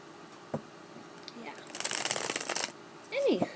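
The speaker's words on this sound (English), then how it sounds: "I'm going to finish shuffling, because I haven't quite finished my shuffling yet" A deck of playing cards is riffle-shuffled close by in a quiet room, one dense crackling burst of about a second, framed by a couple of light taps and a brief voice-like sound at the end.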